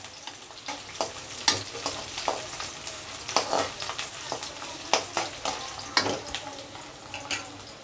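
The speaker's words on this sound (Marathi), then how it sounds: "चिरलेला कांदा टाकू। चिरलेला लसूण टाकू। त्याला चांगलं परतून घेऊ।" Chopped onion and garlic sauté in a pan with a soft, steady sizzle, broken by sharp scraping stirs every second or so, heard fairly quietly and close.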